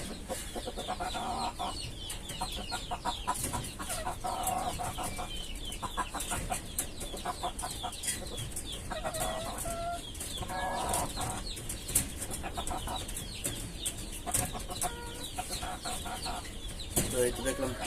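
Desi hens cluck and squawk repeatedly during a Ranikhet vaccination, with occasional wing flaps, sounding close and lively under quiet background talk.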